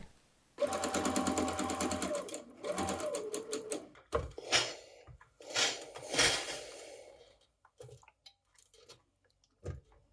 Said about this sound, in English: stitch the ends of the sleeve facing piece 7 right sides together